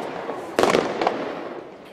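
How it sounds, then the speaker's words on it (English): Fireworks at First Night Pittsburgh, a New Year's celebration outside Fifth Avenue Place, with a sharp burst and a second pop over steady crowd murmur. "the early bird fireworks at 6 p.m. for those who won't make it till midnight"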